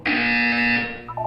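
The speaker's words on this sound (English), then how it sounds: "When you hear the buzzer, look down at the floor." A single loud electronic buzzer from the Portal 2 video game blares steadily for under a second, then cuts off, followed by a brief fainter tone.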